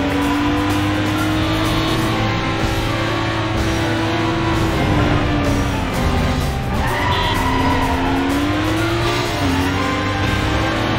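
Race car in the PS2 game Stuntman (2002) roars loudly and continuously while overtaking, its engine pitch rising and falling with gear changes, plus a brief tire squeal and no talking.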